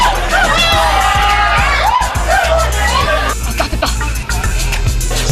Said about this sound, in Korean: 함성과 탄식이 엇갈리는 순간